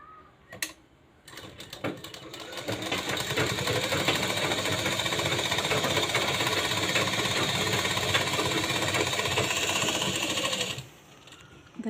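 Double stitching runs along a blouse seam on a sewing machine, opening with a few brief clicks before a long, steady, rapid mechanical whir that lasts around nine seconds and then cuts off.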